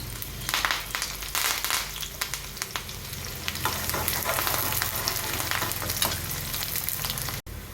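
Onion, cloves, cinnamon and curry leaves hit hot oil for a soya chunk curry and give a loud, dense sizzle with crackling, stirred steadily with a few scraping clicks until a brief cutoff near the end.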